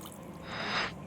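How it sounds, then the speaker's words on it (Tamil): Water is poured into a pan of mutton with ginger-garlic paste for a Madurai mutton chukka gravy, a short close splash and gurgle that swells and fades within a second. "தேவையான அளவு தண்ணி இதோட சேர்த்திக்கலாம்."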